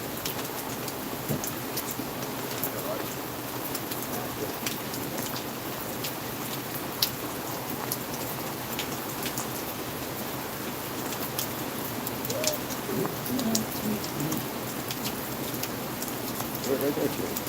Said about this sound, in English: I am getting hit by rain though. Getting soaked out here.